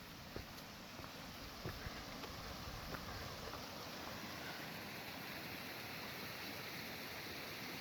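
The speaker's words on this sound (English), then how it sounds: "I hear a waterfall." Continuous rushing water roars steadily, a broad wash of falling water heard from nearby on the hike to Hidden Lake, North Cascades National Park, with no talking.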